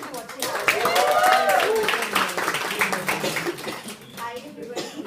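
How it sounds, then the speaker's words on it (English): Audience applause for a speaker at an event, a dense spread of clapping hands rising quickly and carrying on with voices mixed in. "please give a round of applause for her"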